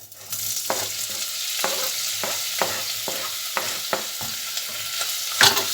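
Meat tipped onto fried, sizzling sheep tail fat in a pot for meat bulgur pilaf crackles loudly and continuously, with regular scraping stirs punctuating the hiss about every half second.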